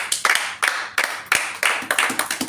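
A church congregation claps in bursts of quick applause, the clapping loud and close, with rhythmic waves of hands rising and falling throughout and no talk over it.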